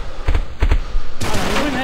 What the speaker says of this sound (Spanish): Coño, está disparando, tío.